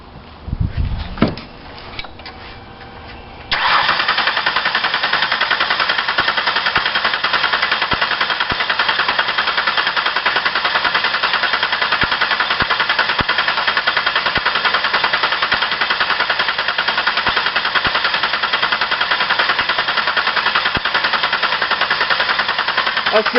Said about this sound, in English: crank the engine over with the throttle body held wide open